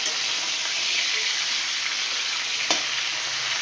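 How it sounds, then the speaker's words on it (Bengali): Hilsa fish heads fry in hot oil in a pan, giving a steady, close, hissing sizzle with a faint crackle and one brief sharp pop, with no voices. "তেলটা একটু গরম হলে মাছের মাথাগুলো খুব ভালো করে ভেজে নিতে হবে।"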